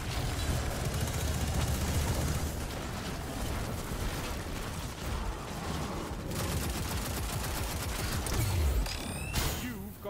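A light machine gun fires in Destiny 2, rapid sustained bursts of shots with heavy explosive thumps and mechanical clatter, loud and dense throughout, pausing briefly before a final flurry.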